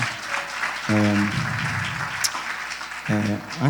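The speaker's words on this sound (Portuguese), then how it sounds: "Uma salva de palmas para eles" An audience claps for a couple being introduced at a book launch, broad applause running under a speaking voice that cuts in and out.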